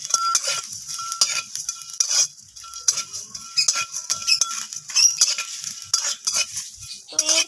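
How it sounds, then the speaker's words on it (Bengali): Whole spices dry-roasting in a pan for a cabbage dish, stirred with a utensil that scrapes and clinks against the metal repeatedly, with faint crackling and no speech. "সেই রকমভাবেই এখানে মশলাটাকে একটু ভেজে নিতে হবে।"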